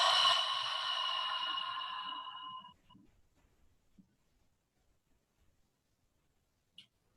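A long, deep cleansing exhale during yoga breathing, breathy and close, steadily fading over a couple of seconds into near silence broken by a faint tick.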